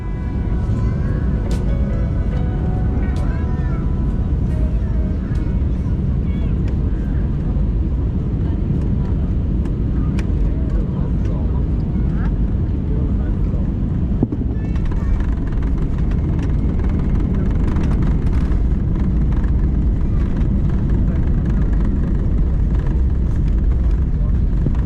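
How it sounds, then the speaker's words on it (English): Landing heard from inside an airliner cabin: a loud, steady engine and airflow roar continues throughout, with faint rattles and thumps over it and a voice talking beneath. "Now please enjoy this unedited landing."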